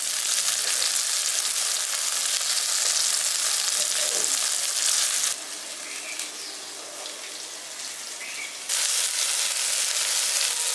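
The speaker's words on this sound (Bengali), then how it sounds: "এবার পনিরগুলোকে আমি উল্টে পাল্টে ঘিয়ের মধ্যে ভেজে নিচ্ছি" Paneer pieces turned and fried in ghee, a loud continuous sizzle that briefly drops quieter mid-way before surging back, with faint stirring clinks and no voices.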